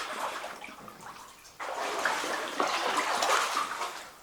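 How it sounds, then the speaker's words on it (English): Water sloshing and splashing around wader-clad legs as someone wades through cold water in a uranium mine, a steady churning swirl that surges louder midway, close by with no speech. "this water's cold even through the waders"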